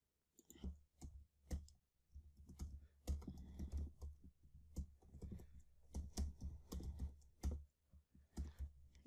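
Rapid typing on a computer keyboard while entering a login page's error message text, with irregular bursts of close, crisp key clicks and brief pauses over a steady low hum.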